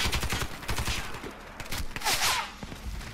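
Rapid bursts of VSS rifle fire in the video game Warface, several quick shots in clusters, loud and close, with no talk.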